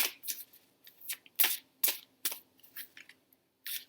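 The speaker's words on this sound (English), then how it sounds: "I'm having trouble shuffling these cards today for some reason" Tarot cards being shuffled by hand in a string of short, crisp riffling bursts with brief pauses between, close and fairly quiet, no talking.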